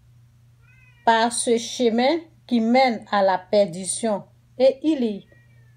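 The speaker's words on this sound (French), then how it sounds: "Excusez-moi pour le bruit de mon chat." A pet cat meows repeatedly and loudly indoors, its cries mixed in with someone speaking steadily over a low electrical hum.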